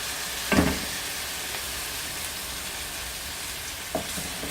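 Kaleji karahi with tomato paste and lemon juice fries on a high flame. A steady, loud sizzle runs throughout, broken by two brief clatters of stirring.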